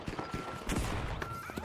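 Rapid turret gunfire in the video game The Finals, a quick rattling string of shots at moderate loudness with a few heavier bursts, brief and continuous.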